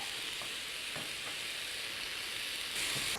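Turkey pieces fry in a pan, giving a steady, faint hiss of sizzling oil with a few soft clinks of stirring and no voices.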